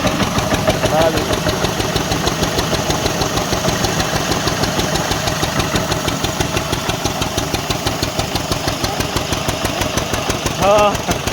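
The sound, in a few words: old engine running a flour mill (chakki)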